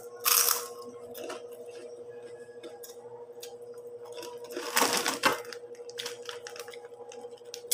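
Crunchy chicharon, fried pork rinds, being bitten and chewed, with a few loud crunches standing out over a steady background hum.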